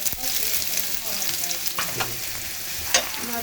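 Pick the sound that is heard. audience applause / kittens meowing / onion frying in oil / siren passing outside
onion frying in oil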